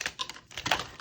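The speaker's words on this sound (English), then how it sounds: "Let's click these a little shuffle." Laminated plastic playing cards riffle and shuffle up close in a few quick crisp bursts, quiet and alone with no talking.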